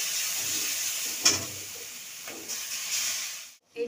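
Ground lentil paste goes into hot oil with dried and green chilli and five-spice seasoning, giving a soft, steady hiss with a few brief louder bursts of sizzle.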